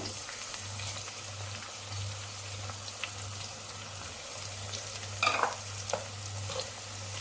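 Curry leaves, cumin and garlic paste fry in hot oil for a tomato chutney, giving a soft, steady sizzle with a brief louder burst of stirring and spattering near the end.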